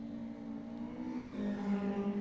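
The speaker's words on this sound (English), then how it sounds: "Steve Volders in the Mark II Escort and the old Volvo 242s, both cars developed in the late 1970s, still leading the pack" Rallycross touring cars, including a Mark II Ford Escort and old Volvo 242s from the late 1970s, race on a wet track, engines droning and rising as they accelerate past at middle distance.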